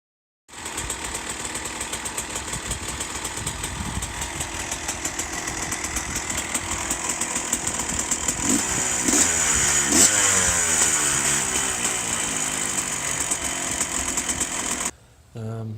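A KTM motorcycle engine runs steadily near at hand, idling with a rough, buzzing tone that swells as it revs in the middle, then cuts out briefly near the end.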